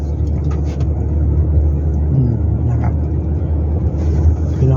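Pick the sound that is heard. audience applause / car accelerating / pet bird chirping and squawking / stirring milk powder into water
car accelerating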